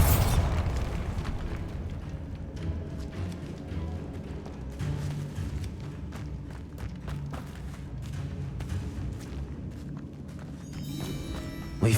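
Bombarda blasting spell in Hogwarts Legacy, played on PC, a loud close explosion that bursts right at the start and then fades into a long rumbling, crackling tail of settling debris with a few faint footsteps.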